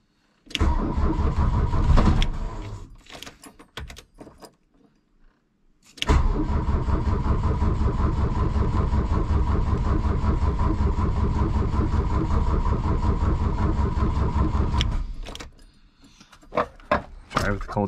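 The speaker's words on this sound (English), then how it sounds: "Once the glow plugs go off, I'm gonna try to start it." A 1982 VW Rabbit diesel cranks and catches after glow plugs cycle, then settles into a loud, steady clattering idle for about nine seconds before shutting down, with brief mechanical clicks and rattles around the starts.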